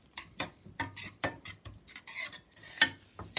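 Butter being stirred into cooked shallots in a pan for herb butter: a run of close, uneven scraping and clinking strokes from a utensil against the pan, with no talk.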